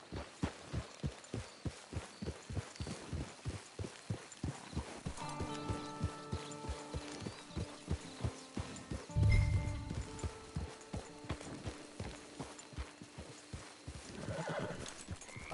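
Horse hooves clip-clop in a steady, continuous rhythm throughout in Red Dead Redemption 2 online on PS4, with a couple of whinnies and neighs partway through, close and fairly loud with no talk.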